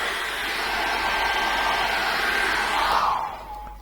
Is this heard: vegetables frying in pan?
no